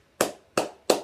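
Three separate, sharp hand claps, evenly spaced and close, each one crisp with a quick decay into near silence.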